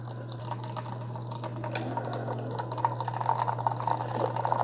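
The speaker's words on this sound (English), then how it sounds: "that's just going to run a really small quantity of hot water through there to mimic an espresso shot." A Keurig K-Cafe coffee maker runs a small shot of hot water, a faint, steady trickle of liquid under a constant electrical hum, growing slightly busier toward the end.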